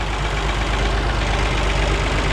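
A tractor engine idles close by with a steady, loud, rough, rattling drone and no pauses.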